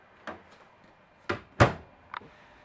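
Cabinet doors under the kitchen counter of a Telluride 296 BHS travel trailer, four separate knocks and clacks, close and fairly crisp, with quiet pauses between.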